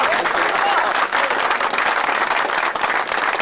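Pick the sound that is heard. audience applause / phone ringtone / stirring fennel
audience applause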